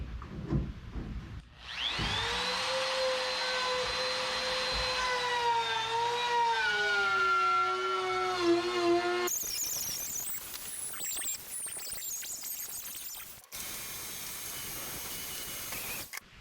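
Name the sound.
router cutting plywood top edge of module frame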